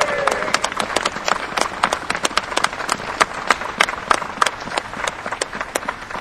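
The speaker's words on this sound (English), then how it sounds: "Give them a round of applause" Crowd at a demonstration in Liverpool claps in steady, dense applause for several seconds, sharp hand claps close by over a broad wash of outdoor clapping.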